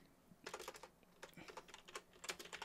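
Quick, light keystrokes on a computer keyboard come in short irregular bursts, close and fairly quiet, with no voices.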